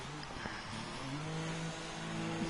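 A race car in an F1 video game enters the pits, its engine a steady whine with slight pitch shifts, fairly faint throughout.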